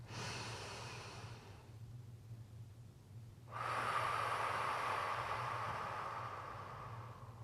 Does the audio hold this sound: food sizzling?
no